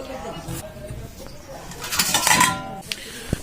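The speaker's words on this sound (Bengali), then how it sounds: "আর এখন কেটে নিব টমেটো" A knife cuts slightly unripe tomatoes for a tilapia fish recipe, with scattered taps and scraping clatter on a board or plate and a sharp knock near the end, while people talk nearby and birds call faintly.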